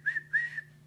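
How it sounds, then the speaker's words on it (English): A person whistles a tune on a narrow mountain road, two short clear whistled notes in quick succession over a faint steady hum. "whistling a tune."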